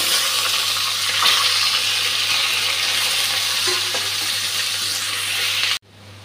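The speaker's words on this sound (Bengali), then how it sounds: "পেঁয়াজ ভাজা হয়ে গেছে" Onions, bay leaf and green chillies frying in a pan for a fish curry, a loud close continuous sizzle with faint stirring scrapes, cutting off abruptly near the end.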